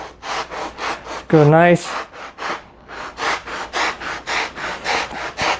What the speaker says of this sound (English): What we got to do now though is cut a hole for the axle.